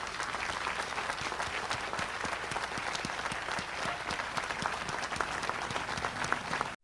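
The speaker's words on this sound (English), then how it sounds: "So if we could have a big round of applause for the singers and drummers." Indoor audience applause for singers and drummers at a Lewis and Clark bicentennial closing event, a sustained crackle of many hands clapping at moderate distance, even and unbroken until it cuts off.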